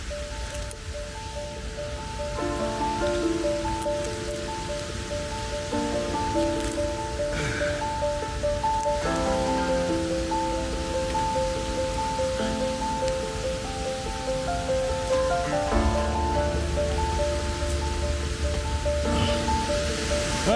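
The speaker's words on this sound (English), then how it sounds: "now I'm on top of the waterfall" A waterfall on a Vancouver Island hike rushes as a steady, broad roar throughout, with a soft tonal melody layered over it.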